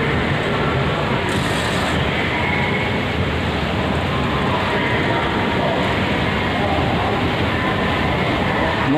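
A Jakarta MRT subway train rides from Bundaran HI station, a steady, loud rumble and rushing roar of the carriage in motion, continuous throughout with no voices standing out.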